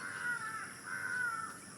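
A crow caws repeatedly in a village setting at dawn, two drawn-out harsh calls with a brief gap between them, carrying clearly over a steady background hiss.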